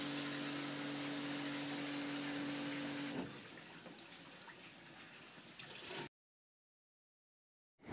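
Water spray washing an air conditioner during servicing: a loud steady jet hiss with a pump's tonal hum, then a quieter continuous spray before it cuts to silence.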